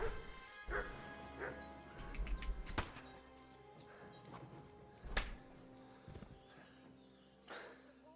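A dog in a video game barks several times at a low level, single sharp barks spread among thuds, crashes and footsteps of gameplay.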